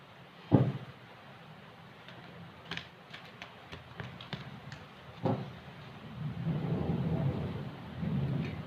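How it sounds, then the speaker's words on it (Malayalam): A sharp crack of thunder, then a second rumble, followed by a steady patter of rain that grows louder toward the end. "നല്ല ഇടിയും മഴയും ആയിരുന്നു"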